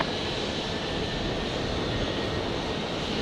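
A Qantas jet airliner begins its takeoff roll at Brisbane airport after sunset, giving a steady, broad engine roar held at even loudness throughout, with no voices over it.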